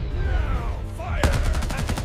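Cartoon gunfire aimed at a T-Rex in a children's animated train show erupts in a rapid burst of sharp shots after a rising whistle-like tone, loud and close with no talking.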